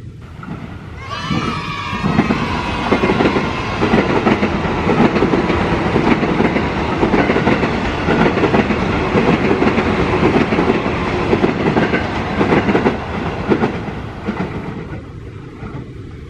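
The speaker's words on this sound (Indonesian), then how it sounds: "Kereta memasuki stasiun Cawang." A commuter train rolls into Cawang station in Jakarta with a loud, continuous rumble and rhythmic wheel clatter. A brief metallic squeal comes near the start, and the noise eases slightly toward the end.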